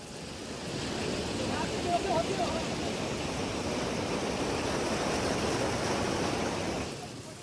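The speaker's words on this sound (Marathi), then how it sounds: "तर नाशिकच्या येवला शहरात जोरदार पाऊस झालेला आहे। मुसळधार पावसाने शेती पाण्याखाली गेलेली आहे।" Heavy rain and floodwater in Yeola, Nashik, with farm fields under water, come through as a dense, steady roar of falling and rushing water that fades in and out at the edges.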